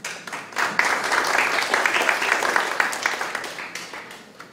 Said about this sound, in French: Il s'agit de Patrice Moranda, que vous pouvez applaudir.